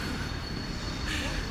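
A train moving through a London station, a steady broad rumble of wheels and carriage noise that stays loud and continuous throughout, with a faint high squeal running along the rails.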